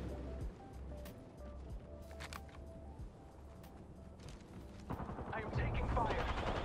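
Gunfire from a match of the Apex Legends shooter game, scattered shots and bursts mixed into busy game noise, mid-distance and moderately loud, growing denser toward the end.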